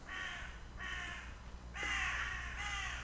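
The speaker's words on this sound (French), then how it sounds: "Oh, j'aime bien le son du corbeau." Crow cawing sound effect in a horror board-game session set in Arkham, four loud harsh caws in two pairs, close and clear over quiet background.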